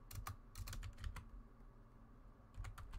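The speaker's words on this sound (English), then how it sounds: "why am I typing all the characters' first names?" Quiet clatter of keys on a computer keyboard, with quick bursts of several keystrokes, a pause and then a few more taps, while someone types characters' names into a Gravity Falls fan website.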